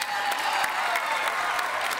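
An audience gives steady applause for performers on a stage: a continuous wash of many hands clapping at a moderate level, with no break.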